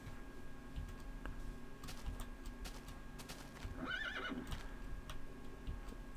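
A horse in Minecraft gives a short whinny midway through, set against a quiet backdrop of steady clip-clop hoofbeats and small ticking game noises.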